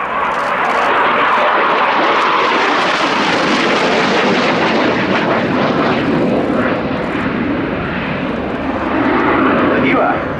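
Spanish Navy AV-8B Harrier II Plus jet at an air show at Yeovilton, a loud, sustained roaring jet engine rumble that swells and holds throughout, with a commentator talking over it.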